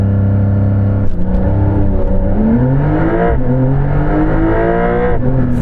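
A Porsche 911 Dakar launches hard from a standstill, its flat-six engine revving loud and close through rising gear pulls with brief shift dips, a continuous strained roar from inside the car.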